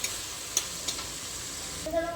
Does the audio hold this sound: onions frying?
yes